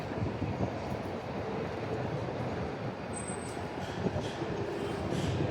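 Steady rumble of a train rolling in with continuous low mechanical noise and rail hiss, heard from nearby on a platform.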